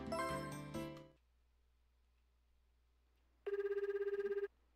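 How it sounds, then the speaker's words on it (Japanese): A video game telephone rings in a fast, even electronic trill after a burst of music fades into near silence, the ring clear and close with no voices. "ちょっとみゆちゃんに電話しよう"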